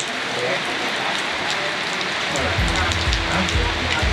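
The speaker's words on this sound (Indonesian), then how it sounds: "Baru sampai tempatnya langsung hujan guys" Steady rain falling outdoors on a motorcycle ride to Citorek, a dense hiss of drops on surfaces throughout, with a low rumble and faint voices joining in the second half.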